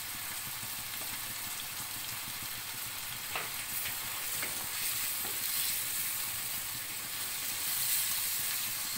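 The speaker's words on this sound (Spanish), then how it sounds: "Se sofríe." Sofrito fries in a pan with ground pepper added, a dense, continuous sizzle and hiss dotted with small pops and crackles, fairly close and without talk.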